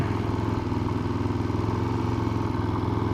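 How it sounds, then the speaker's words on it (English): A motorcycle engine idles high and steady, a constant close-up drone with a fast, even pulse and no voices over it. "I hate it when the idle hangs on these things"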